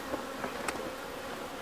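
Steady, close buzzing of many honey bees around a hive, a continuous drone with a few brief louder passes.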